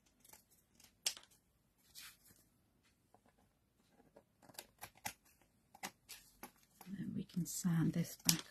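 Scissors snip around a decorated MDF door hanger in scattered, close, light cuts with brief pauses, growing busier and louder near the end.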